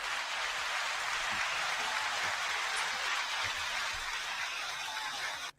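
Steady, dense clapping from a sizable crowd, even and sustained throughout, then cutting off abruptly at the end.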